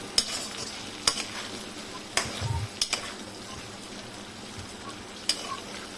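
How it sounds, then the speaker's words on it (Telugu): Okra pieces, also called lady finger, fry in a pan under a soft constant sizzle, with a series of sharp spatula scrapes and clinks against the pan as they are stirred at irregular intervals. "కలుపుతూ మధ్య మధ్యలో కలుపుతూ వేయించుకోవాలి"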